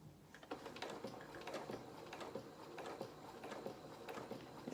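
A sewing machine stitches small seams in doll clothes fabric, a soft rapid clatter with uneven bursts and pauses while the fabric is pivoted, fairly quiet and alone.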